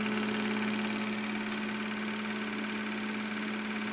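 GAF Anscovision 488 Dual 8 film projector running with a steady, fairly loud mechanical whir and a constant low hum, its rapid shutter rattle unbroken throughout, close by with no talk.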